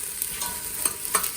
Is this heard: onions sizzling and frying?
yes